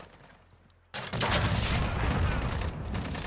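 Gunfire in a Call of Duty Modern Warfare 2v2 gunfight match, a quiet lead-in broken by a sudden loud burst, then continuous heavy shooting and explosive rattle.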